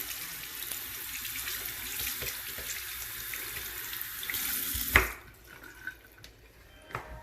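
Tap water runs steadily into a sink as a sponge is rinsed beneath it, then the flow cuts off, leaving a few faint drips and small clinks near the end.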